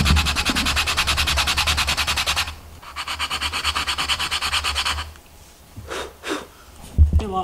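Sandpaper wrapped around a pencil rasps against acrylic in steady back-and-forth strokes, a close, even scraping that pauses briefly, followed by a few softer rubs and small handling noises.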